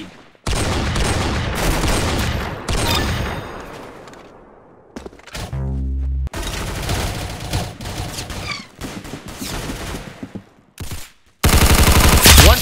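Rapid gunfire from the Roblox game Arsenal: loud bursts of automatic fire and single shots, broken by short gaps and a brief low tonal sweep, with a dense final volley.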